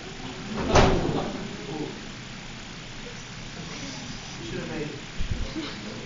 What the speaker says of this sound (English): Will you close the door though?